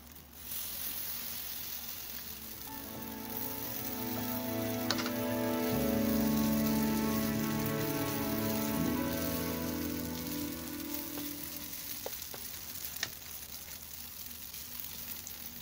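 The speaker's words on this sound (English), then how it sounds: "So we're going to shallow fry this in hot oil or butter." Potato patties shallow fry in hot oil or butter, giving a steady, rain-like crackling sizzle that swells and holds throughout, with a faint tonal hum underneath and a couple of small clicks.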